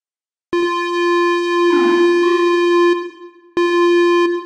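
A tonal riser synth patch built in Native Instruments Massive with a low-pass 4 filter and reverb: a steady bright harmonic tone swells, a noisy wash blooms through the middle, then it cuts briefly and returns sustained and loud.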